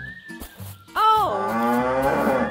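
A cow moos once, loud and close, with a long drawn-out low call that starts about a second in and holds until the end after a short quiet opening.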